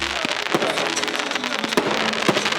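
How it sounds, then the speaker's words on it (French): Fireworks set off at a wedding, a rapid crackling barrage of pops and bangs, loud and close, running dense throughout with no talk. "feux d'artifice dès leur descente de voiture."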